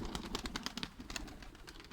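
Pigeons in a loft in Ankara coo softly, low rounded calls repeating under faint fluttering and shuffling, quiet and close.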